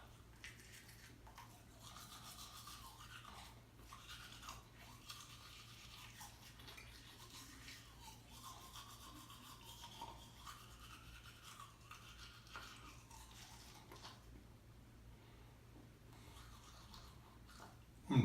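A toothbrush loaded with toothpaste scrubs steadily inside a mouth for a long stretch, a close, soft, continuous rubbing with faint foamy wetness, quiet and unbroken, with no speech.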